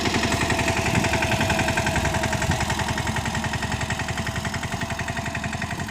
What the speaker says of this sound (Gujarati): તમે જોતા છો ટ્રેક્ટર હમાર્યું હાલે છે